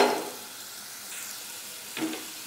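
Onion and green chilli pieces frying in a pan with salt, a soft steady sizzle close by, fading after an initial burst and flaring briefly again near the end.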